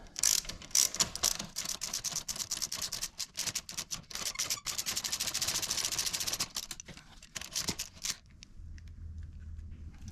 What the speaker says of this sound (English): you will need a 14mm with your ratchet. So we'll go ahead and start taking this apart.